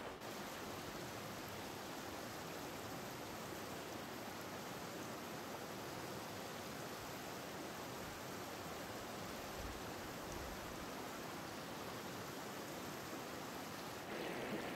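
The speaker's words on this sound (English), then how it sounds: "I'm gonna re-divert some of the cold water that is currently coming into this pool" Cold water pours and rushes into a natural hot spring pool, a constant, broadband gushing flow heard close up and fairly quiet, steady for the whole stretch with no talk.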